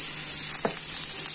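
Shol (snakehead) fish frying in oil in a pan, giving a steady bright sizzle throughout with a brief spatter burst partway, close and fairly loud with no talking.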